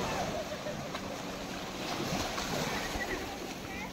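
Sea waves washing in at Shankarpur beach, a continuous broad rushing surge mixed with wind buffeting the microphone, faint and without any clear talk.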